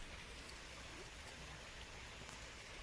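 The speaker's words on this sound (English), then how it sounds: "Can you hear the waterfall?" Steady, distant rushing of a waterfall forms a soft, continuous wash of water noise with no voices.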